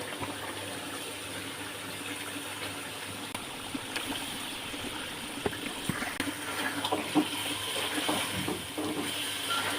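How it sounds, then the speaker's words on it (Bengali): Water poured into a pot of spiced beef curry with papaya, a steady gushing, trickling wash that runs continuously and fairly quietly, with a few small clinks toward the end. "পানি দিয়ে দিলাম।"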